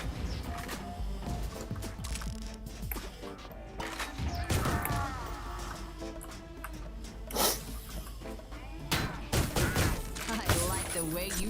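Video game gunfire from the Loverboy pistol in Ion Fury comes as sharp, irregular shots over a dense bed of game music and effects, with a voice talking along.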